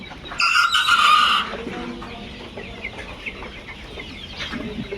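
Layer hens on a poultry farm of about a thousand birds let out a loud burst of clucking and squawking up close, then a softer background murmur of the flock continues.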